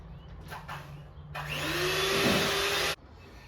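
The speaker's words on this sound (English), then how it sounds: "We now get our hand mixer and we mix for around 2 to 3 minutes on medium." An electric hand mixer beating cake batter on medium speed, whirring as a steady motor drone after a few brief knocks, holding for about a second and a half before cutting off abruptly.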